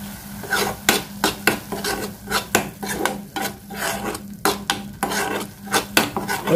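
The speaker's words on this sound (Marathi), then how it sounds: "एकीकडं आपला मसाला परततोय" Masala paste with ginger-garlic paste is fried and stirred in a pan over gentle heat, a spoon scraping the pan in a steady run of close, rasping strokes over a low sizzle.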